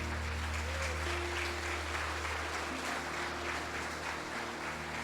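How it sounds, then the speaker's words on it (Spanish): Congregation applauding during a Spanish-language church service, a sustained wash of many hands clapping over a low organ or keyboard drone, steady and full for about five seconds. "Aplaudirle a Cristo."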